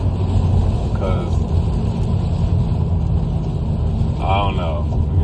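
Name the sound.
Honda Civic Si engine cruising in third gear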